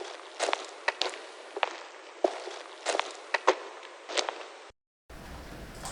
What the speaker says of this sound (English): But the drum loop sounds like this.